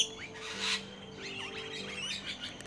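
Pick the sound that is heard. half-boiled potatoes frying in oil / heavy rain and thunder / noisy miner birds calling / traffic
noisy miner birds calling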